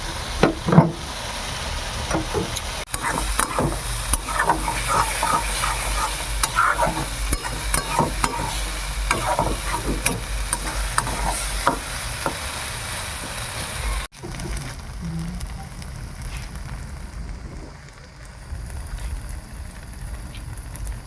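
Tomatoes fry in oil in a pan for gimi shak with cashews, a steady close sizzle with scattered stirring clicks and scrapes that turns quieter and duller partway through.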